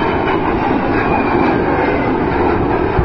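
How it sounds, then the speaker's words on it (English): An AV-8B Harrier jet flies past at the Quad City Airshow 2009, a steady, loud engine roar with broad rumbling noise that holds level throughout, no voices over it. "Cheese at the controls of the AV-8B Harrier."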